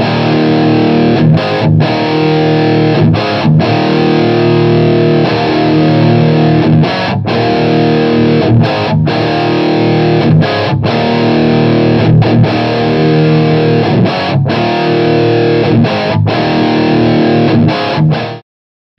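Distorted guitar played through an amplifier for BIAS amp matching, loud, sustained overdriven chords and riffs with brief rhythmic breaks, continuing without talk until an abrupt stop at the end.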